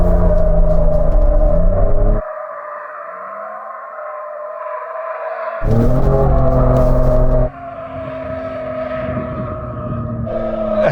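A Ford Raptor pickup revs hard while drifting to warm its tyres, the loud engine note rising and falling in bursts with sharp cuts between and tyre squeal mixed in, close and dominant throughout.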